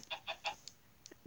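A few short clucks from game chickens, quiet and spaced out, followed by a couple of softer low clucking notes.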